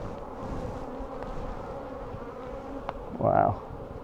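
Honey bees swarm around an opened hive frame full of honey and emerging brood, giving a steady, close buzzing drone that swells briefly near the end, with no talking.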